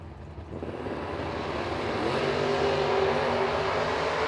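An LS-powered BTE Volkswagen Scirocco drag car in the left lane at a drag strip, its engine building from a rumble to a loud, sustained roar with rising pitch as it launches.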